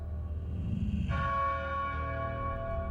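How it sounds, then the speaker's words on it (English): A large bell rings loud and close in the video game Psychonauts 2, a deep clang striking about a second in and leaving a long, sustained metallic hum that rings on over a low rumbling background. "Is this a big bell inside of another big bell?"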